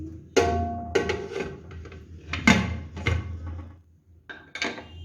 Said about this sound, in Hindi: अब कुकर का ढक्कन बंद कर देती हूँ।